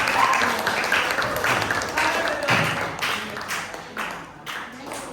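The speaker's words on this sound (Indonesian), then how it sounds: "Tepuk tangan untuk kita." A class gives a short round of applause, uneven claps coming in bursts that fade toward the end, with some voices underneath.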